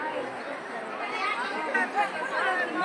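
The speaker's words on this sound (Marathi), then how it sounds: "या ठिकाणी प्रचंड गर्दी आहे" Dense crowd of pilgrims at the Tukaram Maharaj Beej festival in Dehu, a steady wash of overlapping chatter and murmuring voices with no single sound standing out.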